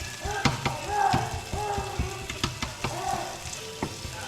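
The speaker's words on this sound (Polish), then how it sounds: "tu się cebulka szkli, tu mam już mięso mielone" Onion and minced meat frying in a pan on an induction hob, a continuous close sizzle broken by repeated scraping and clicking stir strokes, with faint voice-like tones in the background.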